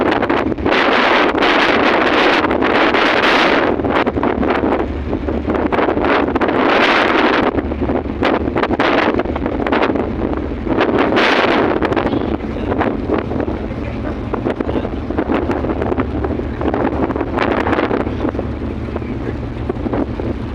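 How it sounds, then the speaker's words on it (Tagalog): Strong, steady wind on a ship deck roars and buffets the microphone with gusty swells throughout, a dense broadband rush with low rumbling underneath. "Grabe ang hangin."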